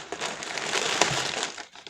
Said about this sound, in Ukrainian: можу розпакувати чергову посилочку для вас